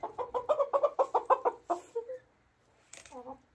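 Backyard chickens from a flock of over a hundred cluck close by, a quick rhythmic run of about a dozen clucks followed by a pause and a few softer, scattered clucks.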